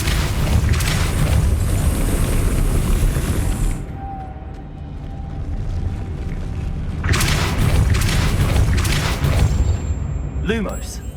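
In the Hogwarts Legacy video game, a Depulso spell sets a spinning mechanism turning to raise a platform: loud booming, grinding rumble with a sharp cutoff, then another heavy surge and a rising tonal chime near the end.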